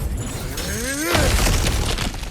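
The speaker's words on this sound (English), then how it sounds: "back to smashing through things for fun and profit" Objects smashed apart in God of War Ragnarök: a rising whoosh leads into a loud crashing break, followed by scattered debris clatter and rumble.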